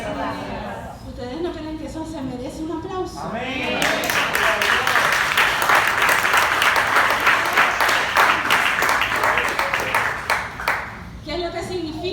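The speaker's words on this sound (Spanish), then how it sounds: "¿ustedes no creen que eso se merece un aplauso?" A church congregation breaks into loud, sustained applause. It rises after a woman preacher's voice and lasts several seconds with dense clapping and cheers, then fades as her voice returns.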